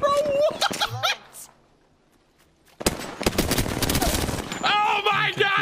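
Rapid automatic gunfire bursts from the Apex Legends video game rattle in dense volleys, broken by a short quiet gap, while players shout over the shooting.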